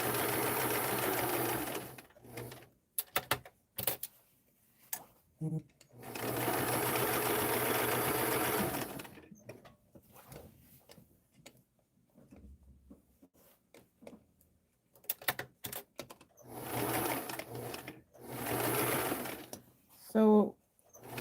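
A sewing machine stitches padding onto a dress form in several long, steady bursts separated by pauses, with handling noises in the gaps and a brief voice near the end.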